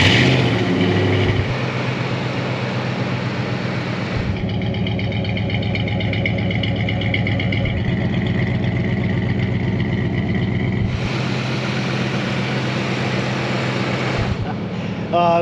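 A Lincoln Mark VII LSC, a recovered field find brought back to running order, idles steadily and loudly close by, its even engine rumble holding without a break throughout.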